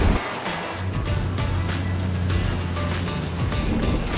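A 4WD vehicle fords a river crossing in the Victorian High Country, with steady rushing, splashing water and a low engine rumble held at a constant loud level throughout.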